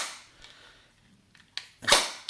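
A Jing Gong vz.61 airsoft gun fires a couple of short, sharp snapping pops close by, separated by quiet gaps with faint mechanical clicks before them.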